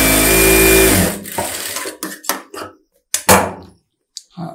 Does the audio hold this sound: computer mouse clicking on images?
no